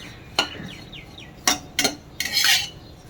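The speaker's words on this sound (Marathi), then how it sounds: "मीडियम आचेवर खोबरं भाजून घेऊ" Grated dried coconut dry-roasted over medium heat in a pan, giving a few sharp metallic scrapes and clinks of a spoon against the pan with quiet gaps between, fairly close and with no voices.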